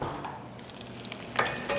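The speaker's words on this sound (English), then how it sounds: "Okay, I got her sizzling good" Sausages sizzle and crackle steadily in a hot frying pan, close by, with a brief scrape of stirring near the end.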